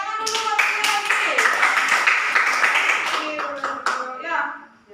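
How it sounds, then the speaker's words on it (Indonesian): Primary school class clapping hands together in a classroom, a run of quick, sharp claps with a teacher's voice over it, tapering off toward the end. "Ya, tepuk tangan dulu buat lagi."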